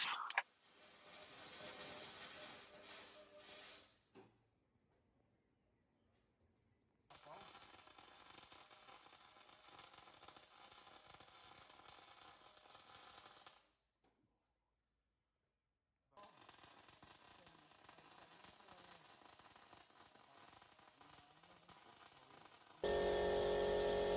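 Welding on a narrowboat hull crackles and sizzles in long bursts separated by silent gaps, a harsh steady hiss heard from nearby.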